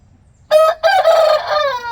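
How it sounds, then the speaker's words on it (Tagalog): A large rooster crows loudly and close by, one full cock-a-doodle-doo broken by a short pause after its opening note, then a long drawn-out tail. "clinose up natin yung malaking manok"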